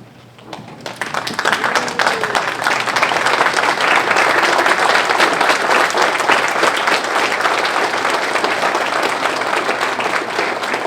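An audience at a formal Senior Hall of Fame induction ceremony applauds the class of 2022 inductees, a loud, dense, sustained wall of clapping that starts abruptly and continues steadily throughout.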